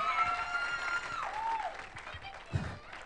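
An audience at a strongman bar-bending show applauds two young girls called to the stage; moderate clapping with some tonal ringing and a bump near the end, fairly distant.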